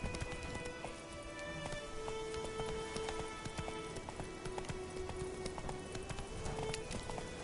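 Geralt's horse Roach trots through rain in The Witcher. The hooves make a steady, even clip-clop rhythm over a constant patter of rainfall, fairly quiet throughout.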